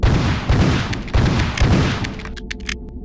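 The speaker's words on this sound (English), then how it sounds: "For starters, you get to dual-wield super shotguns." Dual-wielded super shotguns firing in Marathon 2: Durandal, a run of heavy, booming blasts roughly every half second, loud and close, ending in a quieter tail of lighter shots.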